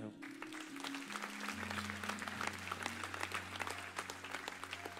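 A church congregation applauds the Lord with continuous, dense clapping from many hands, sustained throughout over low held musical tones.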